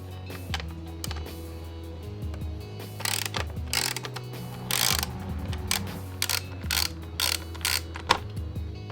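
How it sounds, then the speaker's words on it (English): Screws being removed from the valve-flap servo motor on a Ducati Streetfighter V4 S during an SC Project exhaust install, heard as repeated ratcheting clicks and small metallic tool sounds in short bursts, close and moderately loud, with no talking. "Now we're gonna remove this screw, that one, and this third one here"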